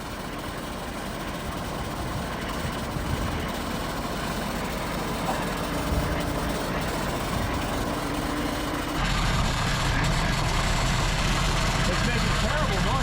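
A freshly installed 6.7 engine swapped into a Bronco runs after its first start, a rough, continuous low rumble with mechanical rattle, heard close and steady throughout, with excited voices talking over it.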